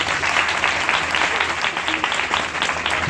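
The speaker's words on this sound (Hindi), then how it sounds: "आइए खुदावन के लिए जोरदार ताली बजाएंगे।" Loud, continuous applause from a church congregation praising God, dense rapid clapping filling the room with faint voices mixed in.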